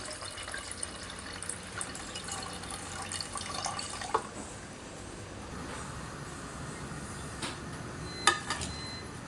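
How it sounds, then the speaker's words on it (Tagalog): Rice grains being rinsed by hand in water in a home kitchen, giving a steady low swish and slosh with scattered drips and clinks of a pot, close and fairly quiet throughout. "unahin muna natin na hugas ng bigas"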